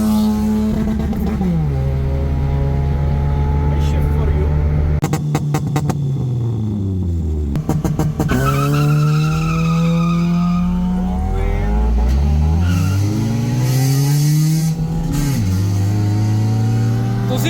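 Engine of a K24-powered car revving hard during tuning, repeated rises and drops in pitch, loud and close with sharp throttle blips and brief cut-offs.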